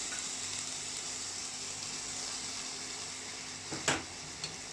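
Ginger garlic paste fries with softened onions in a pan for a fish curry, a faint, steady sizzling hiss running throughout, broken near the end by a brief, sharper clatter of utensil contact, with no talking.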